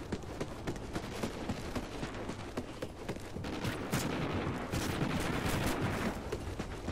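Rapid automatic gunfire from a Vector submachine gun with a thermal sight in a Call of Duty gun game match, dense continuous bursts of shots layered with other weapons firing throughout, steady and loud.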